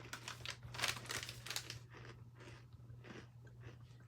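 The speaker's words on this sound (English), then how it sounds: "Gonna eat these brownies now." Brownies are bitten and chewed close up, with crunchy, crinkly mouth sounds in a steady rhythm over a low hum, louder at first and then softer, with no talking.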